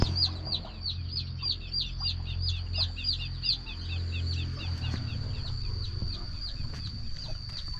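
Chickens cluck steadily alongside the high peeping of chicks and ducklings on a Thai farm, a busy, continuous flock sound with a low background hum and no talking.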